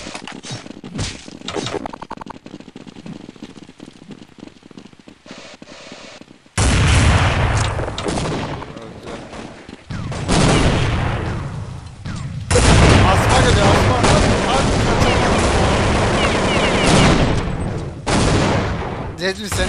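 Counter-Strike 1.6 gunfire in bursts of loud cracking shots and rapid volleys, heaviest in the second half, with players talking over it.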